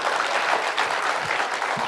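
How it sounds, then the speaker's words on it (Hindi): Audience applause at a political event in Punjab, a steady wash of clapping from a crowd lasting about two seconds, loud and continuous without talk. "इसके लिए तो तालियां होनी चाहिए"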